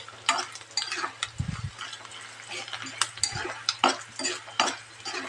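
Green chillies and poha (flattened rice) frying in a pan, with a steady soft crackle and scraping stir strokes near and clear, a few heavier clinks of utensil against the pan breaking through.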